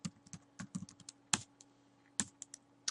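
A computer keyboard clicks as an administrator password is typed, quiet close keystrokes in irregular bursts with short pauses.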